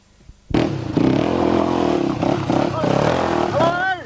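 An enduro motorcycle, a Honda ridden in an over-40s class at a 1994 Powys enduro, bursts into a loud close engine roar that holds steady then rises in revving pitch toward the end, with a crowd voice faintly underneath.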